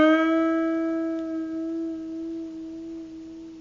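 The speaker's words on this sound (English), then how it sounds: "Increase that to 2, 3, 4, 5 wavering tones of vibrato until the note dies away." One guitar note is held during a minor pentatonic lead lesson. It wavers gently with vibrato and slowly fades away, clear and alone with no voice.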